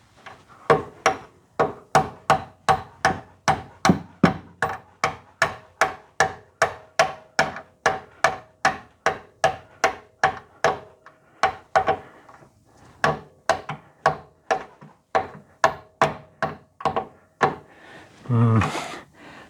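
Steady series of about thirty hammer blows driving a punch through a bolt on a BMW final drive, evenly paced knocks with a brief pause midway and a voice near the end.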